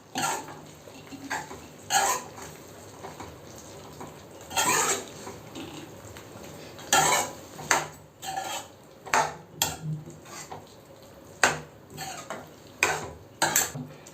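A spoon scrapes and clanks against a pan while pepper chicken gravy is stirred after ground pepper and fennel powder are added, giving irregular metallic clinks and scrapes over a quiet background, without speech.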